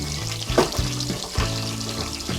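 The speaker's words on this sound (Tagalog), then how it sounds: "kumukulo-kulo na ang ating mantika" Cooking oil bubbles and sizzles while onion rings fry, giving a steady close crackle broken by a few louder bursts.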